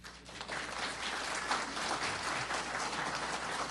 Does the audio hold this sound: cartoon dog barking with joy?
no